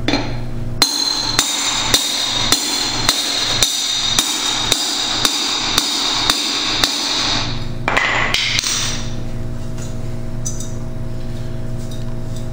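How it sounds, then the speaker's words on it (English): Hammer blows driving out a bushing on a Berkeley jet drive pump using another bushing, a dozen sharp metallic strikes at a steady, even pace close by, then a few scraping clanks before it goes quiet. "Don't know how it's going to work driving a bushing with a bushing, but we'll give it a shot."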